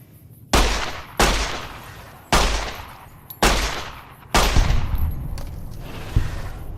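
Pistol fire in the video game Fallout New Vegas: five sharp, loud shots spaced roughly a second apart, each with a short decaying tail, then a fainter sixth report near the end.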